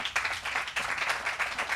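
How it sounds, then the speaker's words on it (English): Clapping from the crowd at a high school graduation ceremony, a close, uneven patter of individual claps at moderate volume, heard on its own without speech. "I'd like to give you guys a round of applause."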